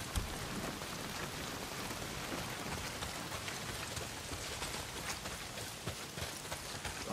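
Heavy rain pours steadily in the Days Gone video game, a dense, continuous hiss of drops hitting surfaces with no voices, filling the scene at an even level throughout.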